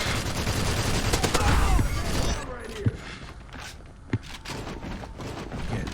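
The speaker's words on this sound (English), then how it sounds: "listen to the gunfire on my AK with the silencer" Rapid bursts of muffled, suppressed AK rifle fire in the game CrossFire X, dense at first, then sparser, with a couple of sharper impacts and background clatter.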